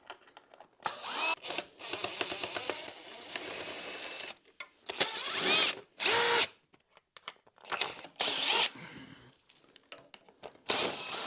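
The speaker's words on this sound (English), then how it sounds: "I do know we need to take off some of these plastic shrouds here on this side and on the other side" Plastic shrouds being removed from a BMW GS 310 motorcycle, with short, close bursts of a whirring power tool separated by quiet gaps and small clicks.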